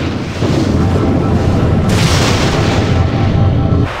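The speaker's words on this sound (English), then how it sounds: "Warning, nuclear missile launched." A nuclear missile launches in the strategy game Red Alert 2, a sustained low rumbling roar that swells abruptly and holds for several seconds before cutting off, loud and close.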